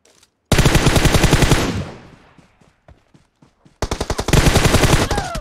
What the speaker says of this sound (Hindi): अबे दोनों ने एक साथ फायर किया है।